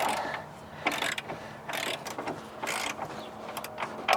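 A hand ratchet clicks in short repeated bursts while turning a bolt on the rear suspension arm of a Ford C-Max, close and fairly quiet, with no talk.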